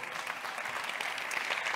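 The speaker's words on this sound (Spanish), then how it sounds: "Un aplauso por Redscan, hemos vuelto" A business-event audience gives sustained, even applause for the company Repscan. The clapping is a dense crowd wash, moderately loud and unbroken, with no voices standing out.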